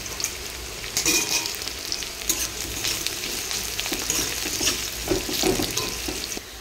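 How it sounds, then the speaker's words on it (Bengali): Chopped onion and green chili fry in hot oil in a pan over five-spice seeds, giving a steady, close sizzle with crackling bursts and occasional stirring scrapes, and no voices. "পেঁয়াজটাকে লাল লাল করে ভেজে নেব"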